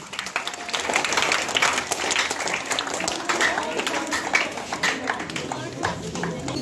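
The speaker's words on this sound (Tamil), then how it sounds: "அங்கே உங்கள் கரகோஷம்." Audience clapping at a juggling competition prize giving held by a Jaffna academy, a moderately loud, steady patter of many hands with some cheering voices and chatter underneath, continuing to the end.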